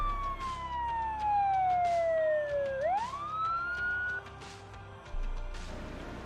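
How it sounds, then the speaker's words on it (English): A wailing ambulance siren sweeps down then jumps back up in pitch, steady and fairly loud over a low rumble of background noise. "Yes, I hear the sirens."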